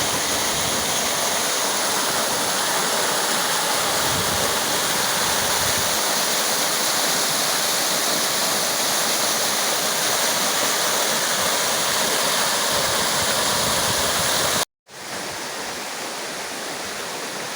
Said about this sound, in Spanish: Vean el sonido tan impresionante del agua aquí.